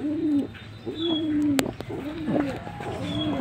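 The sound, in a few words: pigeon cooing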